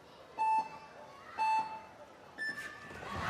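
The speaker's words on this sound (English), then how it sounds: "3 beeps and they're both away, and Song got a very, very fast start." Three electronic start beeps at an IFSC World Cup speed climbing final in Chongqing, evenly spaced about a second apart, the last one higher-pitched, ringing out over arena crowd noise.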